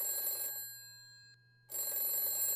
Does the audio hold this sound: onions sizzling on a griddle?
no